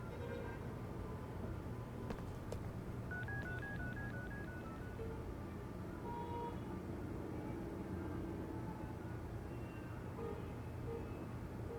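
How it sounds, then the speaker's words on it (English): A phone number dialled in the video game Unheard: a short run of evenly spaced keypad tones over a steady low background rumble, with no talking. "I need to make a phone call anyway."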